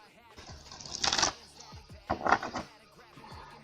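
Two quick bursts of tarot cards being shuffled, close and crisp riffling with soft fabric rustle as a blanket gets caught, separated by a short pause.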